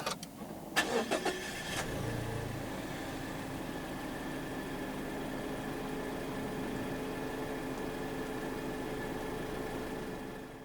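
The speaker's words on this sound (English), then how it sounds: "press the start button to the left of the steering wheel" A 2017 Mazda CX-3 2.0 SkyActiv-G engine cranks briefly on push-button start and catches, then settles into a steady, even idle that runs on without pause.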